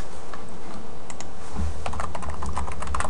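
Rapid clicking keystrokes on a computer keyboard enter a command at an Ubuntu server prompt, close and steady, intensifying into a quick burst of typing with no voices.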